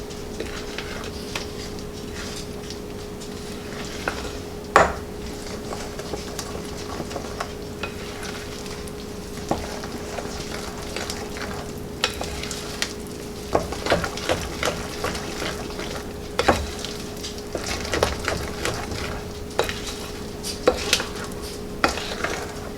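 Wooden spoon stirring pumpkin cornbread batter in a bowl, a steady run of soft scraping and thick wet folding sounds with small knocks against the bowl, close and alone, no talking.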